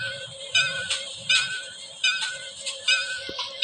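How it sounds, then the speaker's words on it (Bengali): In a train video game, a station bell rings at the platform in a repeated series of bright metallic strikes at a moderate pace, heard fairly close. "আমরা ঘন্টা বাজাই দিই।"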